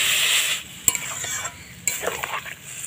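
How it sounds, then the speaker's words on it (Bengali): Vegetables with potato and fish in a pan as water is added, a bright hiss that surges and drops, with a couple of sharp utensil knocks and bursts of spattering sizzle, close and brief. "কষানো হয়ে গেছে সবজিটা, জল দেব।"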